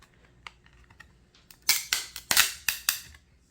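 Sharp plastic cracks and snaps as a PSA graded card slab is pried apart, a few faint clicks followed by a cluster of five loud, close cracking bursts.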